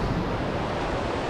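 Sea waves washing onto the beach at Olón, Ecuador, a steady, loud rushing surf with wind blowing across the microphone and no pauses.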